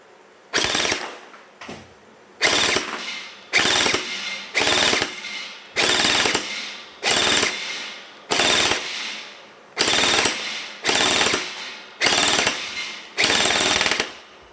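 Shots from an HE Punisher V2 gun fired in a steady series of about eleven sharp, loud bursts, each a short rattling blast followed by a brief gap, with no talking.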